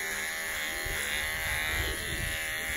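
An electric trimmer buzzes steadily up close while shearing the hair of a Kathewadi goat, its drone interrupted by low rustling and scraping as the blades move through the coat.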